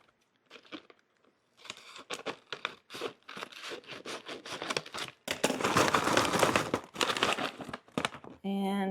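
Plastic bag being cut open at one end and handled, heard as close, loud crinkling and crumpling in irregular bursts, with one longer dense stretch of rustling.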